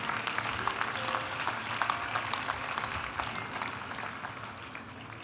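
A graduation ceremony crowd gives a dense, steady round of applause for a master's graduate in mining management, many hands clapping together at an even loudness for several seconds with no voices on top.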